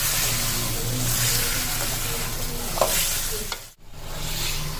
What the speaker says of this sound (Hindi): इसको थोड़ा सा चला लेंगे मसाले के साथ